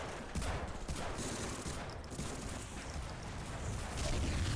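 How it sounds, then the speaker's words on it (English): Dense gunfire in the PS2 video game Medal of Honor Frontline during a beach assault toward a seawall, a continuous rattling barrage with rumbling booms at steady loudness and no clear speech. "I'll give you some covering fire!"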